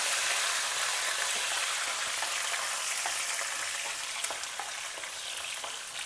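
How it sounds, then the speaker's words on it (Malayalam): Garlic frying in oil for a sardine pickle: a dense, continuous sizzling hiss, close and fairly loud, with faint crackles and occasional soft stirring taps, and no speech. "ഇനി ഇതിലേക്ക് വെളുത്തുള്ളി അരക്കപ്പ് വെളുത്തുള്ളി ഇട്ട് വഴറ്റിയെടുക്കാം"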